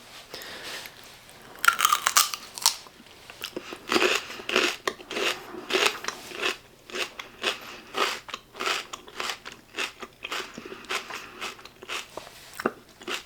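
Crisp bites and chewing of celery spread with peanut butter, a run of sharp crunches in an irregular rhythm, close and loud, with no talk.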